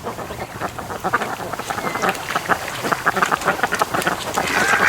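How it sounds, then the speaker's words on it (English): A large flock of ducks quacking continuously nearby in sun and wind, a rapid, overlapping chatter of calls that grows slightly louder toward the end. "I totally relate to why the ducks are sitting here."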